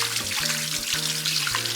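Konnyaku rinsed under warm running water from a kitchen tap, a continuous hissing flow heard close and steady throughout, with a low tonal backing underneath and no speech.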